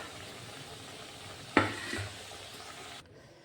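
Vegetable puffs deep-fry in oil, giving a soft, even sizzling hiss, with one brief clatter midway before the sound drops away near the end.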